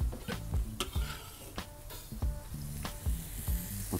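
Mushrooms sizzle while frying in a pan for a portobello and feta burger, with steady sizzle broken by repeated sharp clacks of stirring and utensil contact, close and fairly loud.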